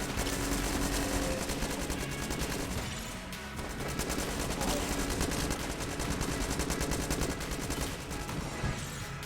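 Rapid, continuous gunfire from an Enter the Gungeon gun that fires three shots simultaneously, a dense loud barrage with a brief dip near the third second before the shooting resumes at full intensity.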